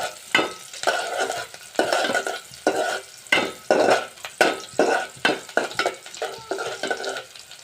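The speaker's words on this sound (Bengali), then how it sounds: "এখন আমি পেঁয়াজগুলো দিয়ে দিব।" Sliced onions sizzle loudly in oil left over from frying fish, with repeated bursts of stirring and scraping in the pan at a steady rhythm. No one speaks.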